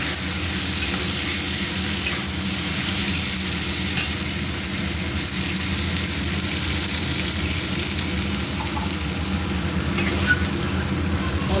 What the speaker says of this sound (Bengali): এবার কুমড়ো দিয়ে একটু নাড়াচাড়া করে এবারে জল দিয়ে দেবো।